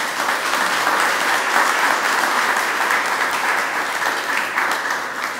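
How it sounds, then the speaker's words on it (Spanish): An audience at an automotive painter certification ceremony applauds in a full, even burst of many hands clapping that holds steady for several seconds. "Aplausos, por favor."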